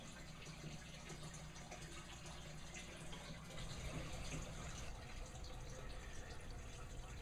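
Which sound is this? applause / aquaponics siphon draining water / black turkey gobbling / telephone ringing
aquaponics siphon draining water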